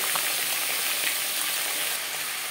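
Mixed winter vegetables frying in a pan, a steady, moderately loud hiss that sounds like rain, with faint stirring underneath.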